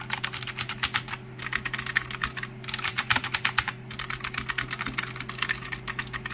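Fast, clattering typing on an older, louder, more hollow-sounding mechanical keyboard in quick bursts with short pauses between, loud and close.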